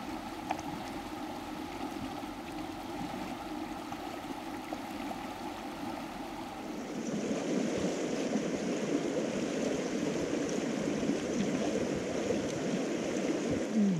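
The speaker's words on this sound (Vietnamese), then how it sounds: "Nhưng mà đoạn này suối đẹp quá," A clear mountain stream runs over rocks along a Vietnamese mountain road, a continuous rushing wash of water that grows louder and fuller partway through, steady and close with no talk.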